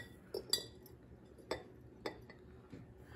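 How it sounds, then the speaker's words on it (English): A metal tea ball drops into a glass quart jar, giving several sharp, bright clinks spread over a few seconds, close and fairly quiet against a still room. "We're going to add that to our quart jar here"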